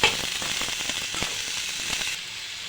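Sliced radish fries in a pan with salt and chili powder while being stirred, giving a steady close sizzle broken by faint scraping and tapping of the spoon against the pan.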